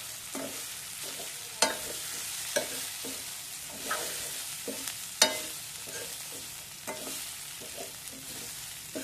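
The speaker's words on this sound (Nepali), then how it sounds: "अब यसमा एकछिन चलाइदिन्छु।" Instant noodles are stirred in a hot pan, a soft sizzle broken by regular scraping strokes of the utensil about every second, close by and with no talk.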